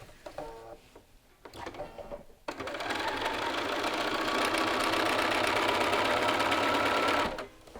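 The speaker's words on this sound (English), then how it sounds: "While we're at the machine, we're just going to sew these two layers of the lapel together so they act as one." Sewing machine stitching two lapel layers together within a quarter-inch seam allowance; after a few quiet handling sounds, a steady, fast, close motor whir runs for about five seconds and then stops.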